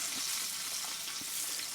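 Ribs fry in a pan over a fire, giving a steady, dense hiss of sizzling oil with faint pops, close and continuous throughout.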